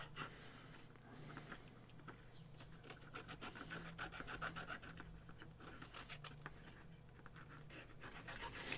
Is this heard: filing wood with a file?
yes